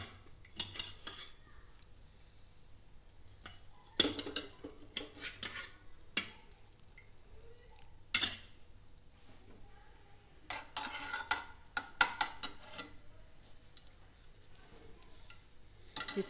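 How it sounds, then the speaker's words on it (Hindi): Acacia gum (kikar gond) being roasted over a low flame in a pan, with intermittent scraping and clinking of a spoon against the metal in short bursts separated by quiet gaps. "अब मैं गूंदे भून रही हूँ,"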